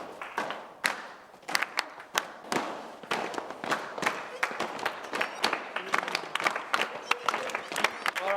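A group of boys claps and stamps a rhythmic beat together, with sharp irregular hand claps and thuds repeating close by and some voices mixed in.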